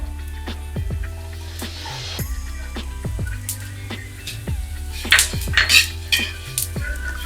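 Dry coconut and coriander seeds roast in a little oil in a pan, with repeated close metallic clinks and scrapes of a spatula against the pan in an irregular rhythm and no talking.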